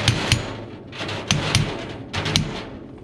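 Chisel struck with a hammer to drive it into wire lath at an inside corner, prepping for cultured stone veneer; several sharp, close metallic whacks come in clusters of two or three with short pauses between.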